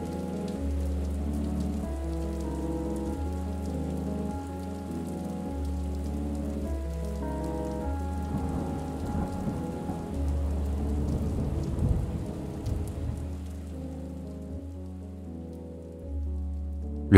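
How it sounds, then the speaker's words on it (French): A storm effect plays steady heavy rain beneath long rolling peals of thunder, loud and continuous throughout, with the rumbling swelling and ebbing under the constant patter and no voices. "un orage affreux s'élève. Les vents sifflent déchaînés. Le tonnerre gronde au milieu de 1000 éclairs."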